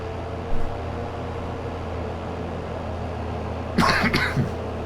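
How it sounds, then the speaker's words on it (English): A person coughs twice, a short cough early and a harsher double cough near the end, close and alone over a steady humming background. "I do apologise for the coughing still"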